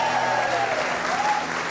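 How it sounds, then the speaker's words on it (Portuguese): A studio audience on a TV talk show claps steadily, a loud full burst of applause with a voice faintly heard underneath. "aplausos pra nossa figurinista."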